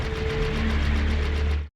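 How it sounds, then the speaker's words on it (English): Psycho Frame effect from the English dub of the anime film Char's Counterattack: a dense, buzzing sci-fi roar with a fast pulsing flutter, steady and loud for almost two seconds before cutting off abruptly, with no voices. "If you listen to the English dub, the noise made by the Psycho Frame when Chen is shooting sounds like this."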